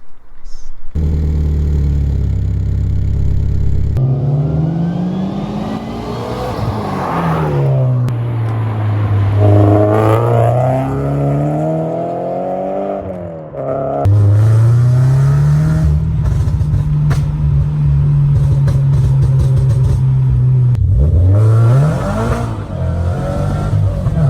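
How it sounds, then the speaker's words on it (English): A supercharged Toyota GT86 with a Cosworth catback exhaust idles with a deep grumble, then revs repeatedly, engine pitch rising and falling in loud, close pulls before settling back to idle. "So expensive parts on the exhaust, but it really does make a nice sound out of it."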